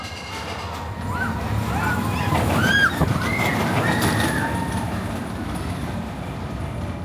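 Steel Vampire roller coaster at Chessington World of Adventures, a loud rolling rumble of track and train cars with rising whine, continuous and close over several seconds.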